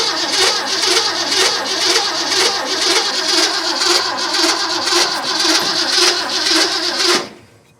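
An old 1972 Ford Highboy truck engine cranks loud and close in a steady pulsing rhythm for about seven seconds without catching, then cuts off abruptly.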